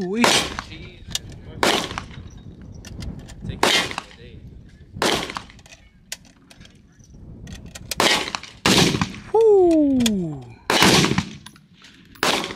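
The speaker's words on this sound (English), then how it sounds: "Send off a couple shots, y'all." Repeated loud gunshots crack at an outdoor shooting range, single and paired blasts spaced a second or two apart with sharp broadband attacks and ringing tails, alongside a brief tonal whine and some background chatter.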